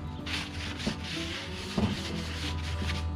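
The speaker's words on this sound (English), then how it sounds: "Just going to give a good wiping down." A cloth wipes down a part from a Traeger pellet grill in steady, close rubbing strokes, with a few soft knocks between passes.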